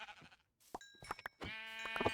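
Sheep in the Minecraft Bedrock video game bleat repeatedly, a few short calls then a longer wavering bleat, close and clear with no talking.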